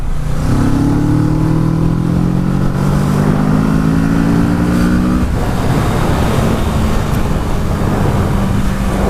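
A motorcycle throttling up on slightly damp ground, its engine note rising steadily through a gear change as it pulls away, loud and close over wind and road noise, with no talk.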